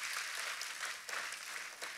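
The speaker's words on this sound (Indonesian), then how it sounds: "Tepuk tangannya yang paling meriah buat Tuhan kita." A church congregation claps together in a dense, steady round of applause that carries on evenly, somewhat distant and moderately loud, with no one speaking over it.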